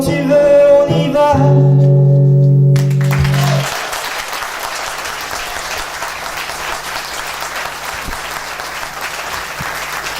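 A live acoustic music show: the last notes of a song give way to loud, sustained audience applause that fills the room and continues steadily to the end.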